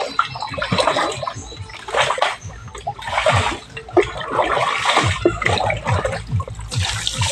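Water splashes and pours as someone bathes in a stream on Northern Samar's San Antonio island, repeated close sloshing and dribbling bursts with a running flow in between.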